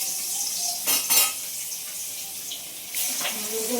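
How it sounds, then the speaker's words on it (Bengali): Fish pieces slide into hot oil in a home kitchen wok, giving a steady broadband sizzle with a couple of brief clattering bursts from a utensil or pan, close and moderately loud. "তাহলে দেখুন কড়াইয়ের ভিতরে মাছটা দিয়ে দিচ্ছি,"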